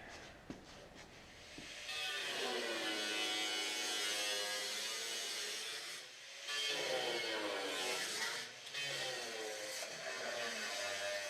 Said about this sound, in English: So let's grab the grinder.